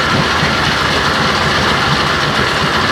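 Steady, loud outboard motor engine drone idling high, not dropping to a normal idle, without pause, a dense rumbling hum with no talking.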